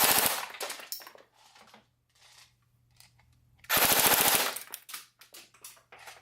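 A Cyma AK Beta Spetsnaz airsoft rifle on a 7.4 volt battery fires two full-auto bursts at about 14 rounds a second, rapid mechanical clacking close by, separated by quieter handling noises.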